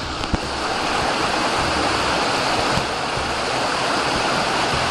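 Small river rapids in the Boundary Waters rush steadily, a dense, close broadband roar of moving water that stays even throughout, with a faint knock near the start.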